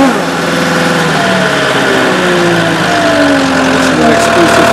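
A Cat skid steer loader controlled by a remote system runs its engine after start-up, a close, loud steady drone with shifting rev tones and no pauses.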